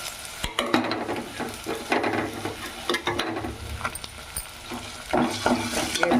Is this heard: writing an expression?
no